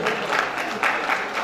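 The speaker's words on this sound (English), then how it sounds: "Round of applause for Mr." Audience applause at a mental health act sensitization workshop, a dense steady clapping from a crowd filling the whole moment with no voices over it.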